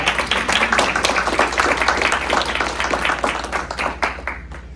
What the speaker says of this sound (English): More clapping than I usually get.